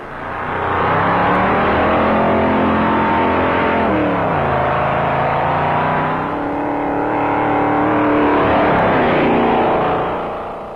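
Pontiac race cars speed along the sand at Daytona Beach in 1957, engines roaring loud and close with rising and falling pitch as they pass and shift, a continuous run of revving with no talk.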